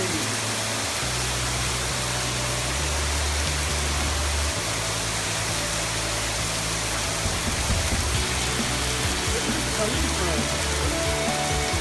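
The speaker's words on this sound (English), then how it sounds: "It's a hailstorm." Hail pelting a patio in San Jose, California during a storm, a dense steady rattle and hiss that fills the whole stretch, with a low rumble and faint voices underneath.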